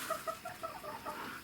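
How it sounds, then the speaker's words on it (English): Hens and roosters in a dim coop, including Wyandotte and red sex-link laying hens, cluck in short repeated bursts close by, a steady low murmur of farmyard chatter with no one talking. "I like chickens."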